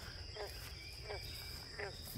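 Bullfrogs call by a pond during mating, three evenly spaced low croaks faintly over a steady hum of night insects, with a thud at the very end.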